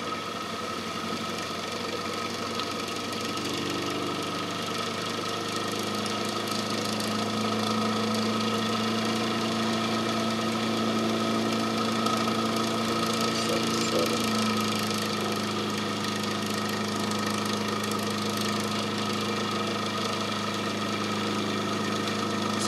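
A Marinov motor/generator runs under a 6-ohm resistor load, giving a steady mechanical hum with a faint buzz whose pitch shifts about two-thirds of the way through as the speed changes. No one speaks.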